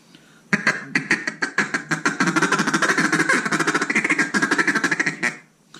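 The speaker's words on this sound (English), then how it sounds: "And then now we will do your feed call or feed chuckle." Zink NBG acrylic duck call blown in a rapid feed chuckle, a dense run of clipped quacking notes pulsing steadily for about five seconds, loud and close with no talking.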